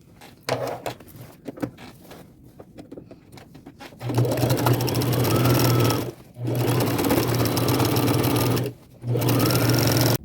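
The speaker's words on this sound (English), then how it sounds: "I'm going to run a zigzag stitch about 1/2 inch up from the bottom" A sewing machine runs a zigzag stitch along a jeans hem in three steady, loud humming bursts with short pauses, preceded by a few seconds of handling clicks and rustling.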